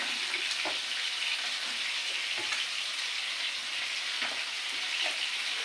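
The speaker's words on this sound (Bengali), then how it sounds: "মাছ ভাজা দেখাবো" A fish sizzles steadily in a frying pan, the close, even crackle broken by a few soft knocks and stirring clicks, with no voices.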